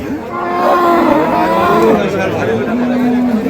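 Bulls and cattle moo at a busy livestock market, several long, loud, drawn-out calls overlapping beneath crowd chatter and people talking nearby.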